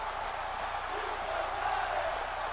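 A video game wrestling arena crowd in WWE 2K18 roars and chants in a continuous, broad wash of sound, with a commentator's voice talking over it.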